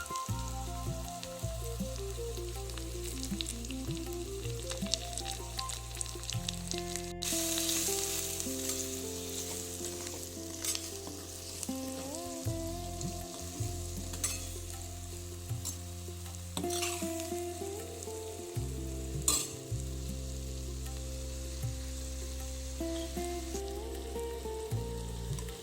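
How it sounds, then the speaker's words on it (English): Spices, hing, turmeric, salt and curry leaves being stirred in a hot pan for tomato sabji, a continuous close sizzle and frying crackle with scraping stir sounds throughout, no voices. "Mix all the ingredients nicely."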